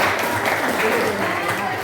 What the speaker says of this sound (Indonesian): Benar, tepuk tangan Bella